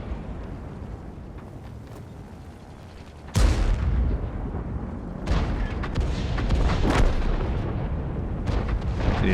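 Tank cannon fire in a video game from the Bisonte C45, with a sharp loud boom breaking over quieter battle ambience, then further heavy thuds and rumbling impacts rolling on without speech.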